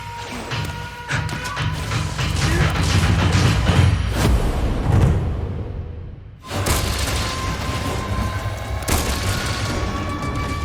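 Light bowgun rapid fire in Monster Hunter Rise: dense, loud volleys of booming shots roll almost continuously, with a brief dip near the middle before the barrage resumes.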